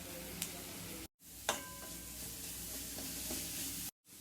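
Onion, carrot and capsicum fry in two spoons of oil for an egg parotta, giving a soft, steady sizzle with a few light stirring clicks, broken by two brief silent gaps.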